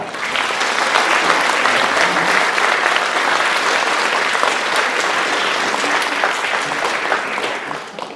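Sustained, dense applause from a concert audience for a symphony orchestra, a steady wall of many hands clapping that holds loud and even throughout before easing slightly at the end.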